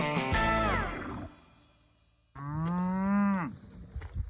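Heifer and calf moo close by: one long, drawn-out low call opens, then a short silence, followed by a second loud, sustained moo.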